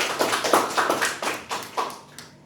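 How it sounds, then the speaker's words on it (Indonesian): A small group claps in a classroom during a mathematics lesson: about nine distinct, fairly close handclaps in a loose rhythm, fading slightly toward the end. "Tepuk tangan untuk kita semua."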